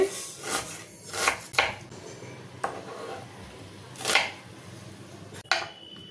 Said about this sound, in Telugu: కాకరకాయలన్నీ ఇలా కట్ చేసుకోవాలి.